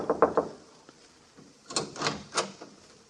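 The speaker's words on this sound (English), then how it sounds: "I knocked on the apartment door." Knocks on an apartment door as a radio drama sound effect: a quick group of three raps, a pause, then three more spaced, heavier knocks, close and clear with no talking.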